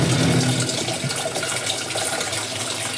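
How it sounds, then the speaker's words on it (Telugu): Mineral drinking water streams steadily from a tap into a container at a fair, a continuous bright gushing splash with no voices. "ఫస్ట్ అయితే ఇక్కడ మనకు డ్రింకింగ్ వాటర్ పట్టేసుకుంటుంది ఇక్కడ"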